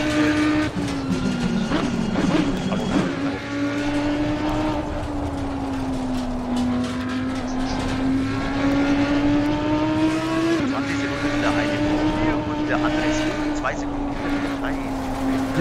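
A race car in Assetto Corsa Competizione drives with a loud, continuous engine note that rises and falls through gear changes and revving, while people talk over it.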